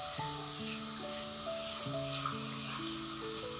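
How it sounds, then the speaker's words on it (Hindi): Garlic ginger paste sizzling in hot oil in a pan for chicken karahi, a steady crackling fry with faint background music tones over it. "लहसुन अदरक का पेस्ट डालूंगी और 1 मिनट तक इसको फ्राई करूंगी।"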